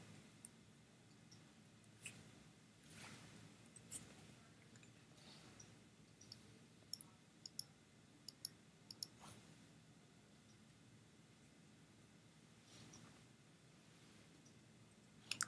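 Computer mouse clicking: scattered quiet single clicks, a few in quick pairs, spread irregularly over a faint background.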